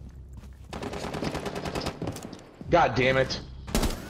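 Rapid automatic gunfire in the Rainbow Six Siege video game, a dense burst of shots followed by a scattered few more, with a player cursing partway through.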